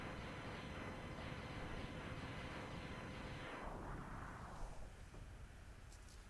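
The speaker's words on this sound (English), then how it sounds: "Will Zero survive the explosion" A long rumbling explosion from the SNES game Mega Man X, loud and sustained for several seconds with crackling debris noise, then fading out toward the end.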